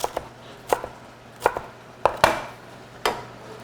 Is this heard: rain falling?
no